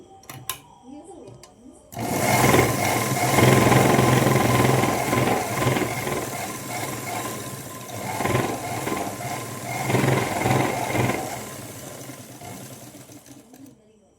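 An electric sewing machine stitches a Punjabi dress lining, starting abruptly after two seconds with a loud, fast, continuous whirring run that eases off and surges again before fading near the end.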